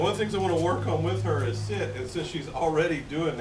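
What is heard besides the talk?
None of the usual background noises is heard.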